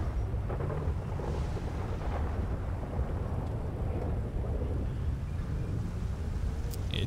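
In a GTA roleplay game, a strong thunderstorm gives continuous low rumbling with rain and wind noise at a constant level and no speech over it.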